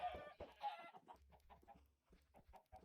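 Chickens in a video game cluck in a quick, scattered series of short calls, faint and close, with a brief squawk near the start.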